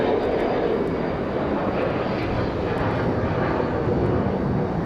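A United airliner landing on a runway at Raleigh-Durham airport, its engine roar steady, broad and loud across the whole stretch with no pauses.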